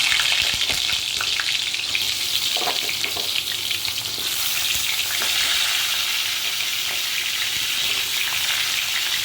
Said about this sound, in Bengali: আমি এই পটলগুলো আস্তে আস্তে এসে গরম তেলে ছেড়ে দিচ্ছি